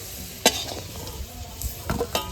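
Browned potatoes fry in hot oil, a steady soft sizzle broken by a few sharp metallic scrapes and clinks as the pieces are lifted out with a spoon.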